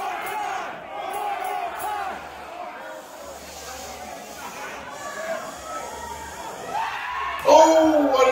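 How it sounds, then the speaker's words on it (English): Arena crowd at a LoKo Wrestling match, Papa Dingo versus Reggie Jackson, keeps up a steady roar of cheering and shouting, swelling louder near the end with a sharp burst of yelling. "Crowd is into this one."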